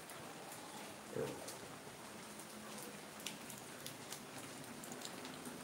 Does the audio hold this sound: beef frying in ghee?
no